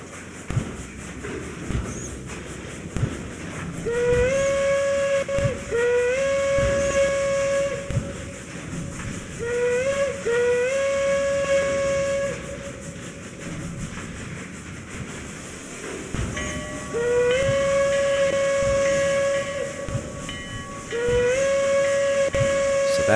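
A 3 ft narrow-gauge steam locomotive sounds its whistle in several short and longer blasts while coupling up and shoving cars, with hissing steam, chuffing and clanking rail noise throughout.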